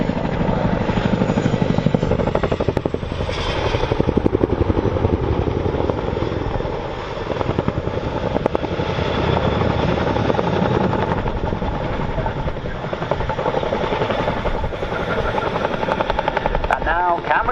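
Display helicopter at an RAF Cosford air show decelerates sharply by swinging its tail around the nose, a steady loud rotor and turbine roar heard from a distance with a commentator talking over it.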